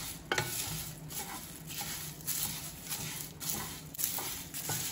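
Black pepper and cumin dry roasting together in a pan, a dense crackling rustle with repeated scraping stirs roughly every second, soft and steady with no voices.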